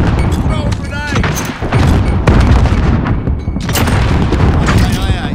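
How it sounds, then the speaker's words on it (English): A grenade explodes in Call of Duty: Modern Warfare amid dense, loud battlefield noise, with repeated booms and gunfire layered over shouted voices throughout. "Throw a grenade!"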